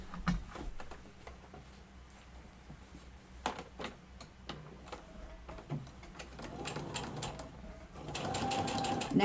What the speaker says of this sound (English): they fit right together while you're sewing them